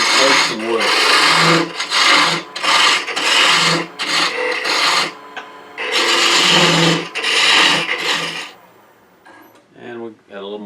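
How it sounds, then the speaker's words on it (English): A 3/16-inch parting tool cuts into a spinning piece of wood on a lathe while a one-piece baby rattle is turned, giving repeated loud rasping, scraping bursts separated by short pauses. "This is a 3/16 inch parting tool, which is fine."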